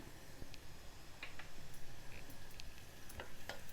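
Cumin seeds hit oil with onions already fried red, giving a faint, steady sizzle with scattered small crackles and pops, no talk heard.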